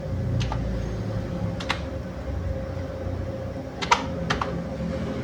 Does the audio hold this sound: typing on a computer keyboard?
yes